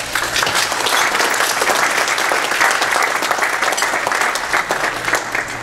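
An audience at a Keuka College ASAIHL event applauds to welcome Dr. Milton Cofield, a steady, dense clapping that continues loud and unbroken throughout.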